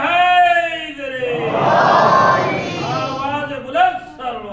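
Mosque congregation at a majlis roars back a chanted response to religious slogans, a massed chorus of voices swelling loudly in the middle, trailing off as a lone voice calls out again near the end.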